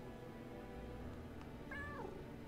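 A house cat gives a single short meow near the end, faint against a steady hum of room noise, with no talk over it.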